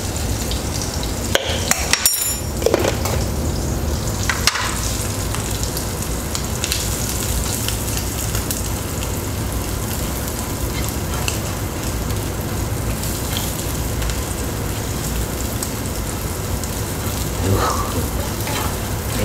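Shrimp frying in a pan, a steady hissing sizzle with a few sharp clinks of a utensil early on, continuous and close throughout.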